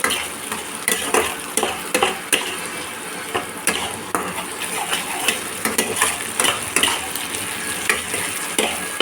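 Spice paste (masala) is stir-fried in a pan for a Bengali pabda fish curry. A spatula scrapes in repeated strokes over a soft, continuous sizzle.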